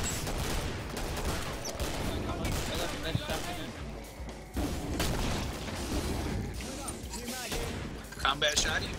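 Gunfire in the zombie-horde shooter Killing Floor, on the Hell on Earth difficulty: dense overlapping shots and bursts through the whole stretch, loud and chaotic, with a brief lull near the middle and sharp cracks toward the end.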